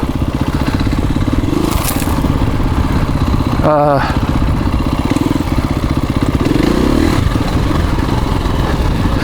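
A motorcycle fitted with an ARC adjustable clutch lever runs steadily close by, its engine droning with a pulsing low rumble throughout. A short rattling scrape cuts in near the middle, and brief louder engine swells follow.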